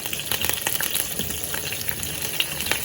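Green chilli, fennel seeds and fenugreek seeds fry in hot oil, a continuous crackling sizzle heard up close with small pops scattered through it.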